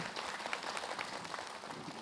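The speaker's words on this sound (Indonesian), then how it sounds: "Tepuk tangan dong." A studio audience at an Islamic religious TV talk show claps briefly, with soft, scattered applause that holds at a low, even level.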